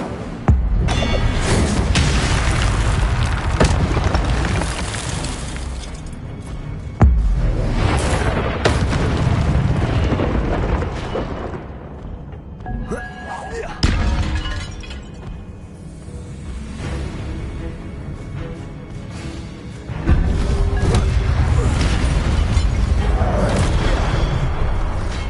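Incendio fire spells cast in Hogwarts Legacy on PS4 Pro: loud booming blasts with whooshing bursts, several heavy hits and rumbling over a dense, continuous game soundscape with music and effects.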